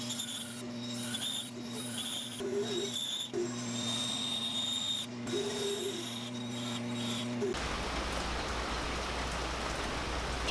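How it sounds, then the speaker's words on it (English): Rain falls steadily outdoors as a constant soft hiss over a low hum, the texture shifting to a broader, rougher wash for the final few seconds. "It's supposed to rain a lot today."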